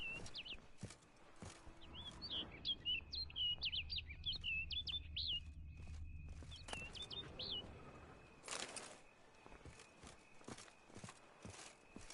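A bird in The Witcher 3: Blood and Wine chirps in quick bright bursts of tweets, with faint footsteps and a muffled low rumble underneath, followed by a few more scattered calls.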